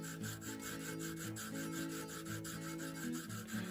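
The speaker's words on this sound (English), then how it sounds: "I already taped out the section where I'm going to be sawing." A saw cuts back and forth through a taped-off section of a LARP knife blank, a steady rasping rub with a regular push-pull rhythm, close and fairly quiet with no voices.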